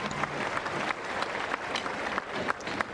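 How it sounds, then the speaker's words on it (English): A tennis crowd applauds at a match between Janko Tipsarevic and Richard Gasquet, a steady, moderate wash of clapping that stays even throughout without cheering. "the crowd gives him the applause, but not a big one"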